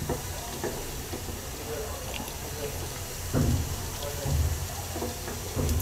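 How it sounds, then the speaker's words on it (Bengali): Water boiling in a steamer pot for bhapa pitha, steamed rice cakes, giving a steady bubbling hiss with a few louder bursts of bubbling toward the end, heard under a woman's speech. "পানিতে বলক চলে আসছে, এবার আমরা পিঠাগুলো দিয়ে দিচ্ছি।"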